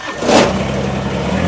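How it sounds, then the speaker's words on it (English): Kubota BX25 sub-compact tractor engine cranks and catches in a short burst, then settles into a steady running chug nearby. "We're going to fire this tractor up."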